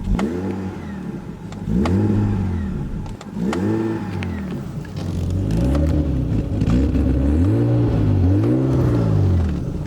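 A BMW E34 engine revs up and down repeatedly through an aftermarket muffler with a throaty, rumbling exhaust note, loud and close, with some clattering ticks.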